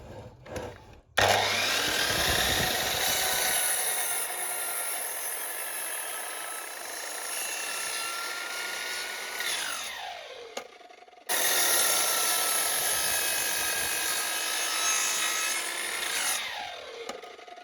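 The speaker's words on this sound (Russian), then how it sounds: "по-моему, под угол 45 градусов пилит отлично" A saw cutting through 150 by 100 mm timber at a 45-degree angle, heard as two long, steady, loud cutting passes separated by a brief pause, with no talking.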